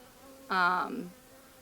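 A single honey bee buzzes briefly and close by during a first hive inspection, a sharp, tonal drone lasting about half a second before fading against quiet background.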